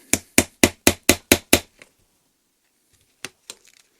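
Seven sharp, evenly spaced metallic taps ring out in quick succession as a bearing is used to knock a part of a BMW E30 power steering rack, followed by a pause and a few lighter scattered knocks.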